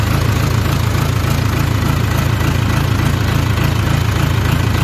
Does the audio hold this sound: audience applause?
no